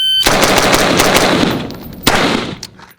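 An AR rifle with a mil-spec trigger firing at an outdoor range, a loud rapid string of sharp shots followed by a second short burst, each echoing briefly.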